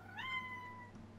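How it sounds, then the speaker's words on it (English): A cat gives a single clear, rising-then-level meow, close and fairly quiet, over a low steady hum. "Sorry, the cat had my attention for some reason."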